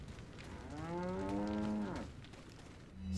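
A cow in the video game Resident Evil 4 moos once, a long drawn-out low call that sits fairly quiet in the mix and stands alone without talk.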